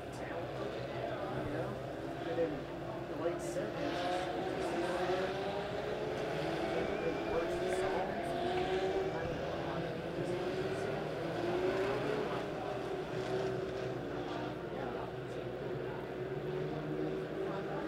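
Legends race cars circling Springfield Raceway at a Turkey Bowl race, a steady layered engine drone with rising and falling pitches from the pack, heard at a distance beneath near-constant announcer commentary.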